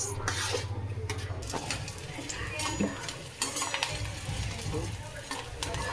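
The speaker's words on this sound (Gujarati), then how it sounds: "જો આપણે ગુંદ તળવા મેળાશું" Oily sizzling and crackling of edible gum frying in ghee, with occasional stirring and scraping in a pan, close and steady throughout.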